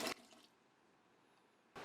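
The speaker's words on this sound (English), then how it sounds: "You rinse out all the white starch as best you can." Rice rinsed with warm water in a kitchen before par-cooking in the microwave, a brief burst of running, splashing water at the start and again at the end with quiet between.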